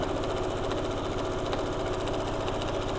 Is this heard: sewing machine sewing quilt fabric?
yes